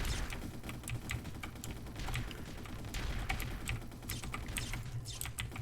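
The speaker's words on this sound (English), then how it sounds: "Shooting all kinds of weapons at me." Enemy gunfire in the video game Blue Crystal, a dense rapid crackle of shots and mechanical clatter running continuously at steady loudness, with no talk over it.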